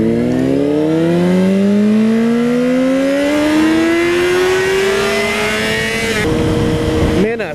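Sport motorcycles, a Honda CBR600RR and an MV Agusta F3 800, accelerate hard on a road, engines rising steadily in pitch through the gears with a shift near the end, loud and close over wind noise, while a rider shouts.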